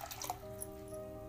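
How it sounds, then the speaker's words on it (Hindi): Clean water poured into a vessel during a Saptami-Ashtami fast ritual, a brief close dripping and splashing trickle with a faint steady tone underneath. "इसके बाद हम साफ़ पानी डालेंगे।"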